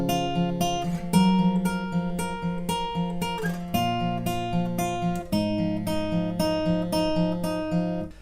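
Acoustic guitar plays the second part of the verse and intro riff of a song, picked notes and chords in a clear repeating rhythm over sustained bass, close and moderately loud, with no speech.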